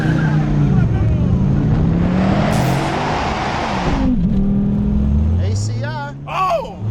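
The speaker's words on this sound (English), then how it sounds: "Let's move on to our drag races. First up, it's the Viper GTS against the ACR." A Dodge Viper GTS and Viper ACR roar hard off the line in a drag race, engines climbing loudly through the gears with sharp shifts while voices talk over the close, continuous acceleration.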